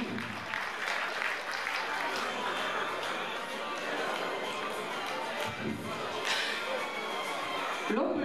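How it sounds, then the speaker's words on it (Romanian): A crowd applauding steadily for several seconds at a bodybuilding and fitness championship, dense clapping with some scattered cheers and chatter mixed in. "Aplauze, vă rugăm, pentru Constantin."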